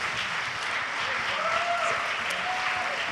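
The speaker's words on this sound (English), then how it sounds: "give you one last round of applause" A crowd at a Spokane candidate forum applauds the candidates, a steady roar of clapping with faint whoops and voices rising through it, filling the room without a pause.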